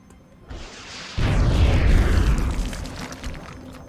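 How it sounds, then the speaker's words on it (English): A rocket detonates in the XCOM tactical game, a loud booming blast with a rumbling low roar that swells and slowly fades over a few seconds, alone without talk. "Rocket."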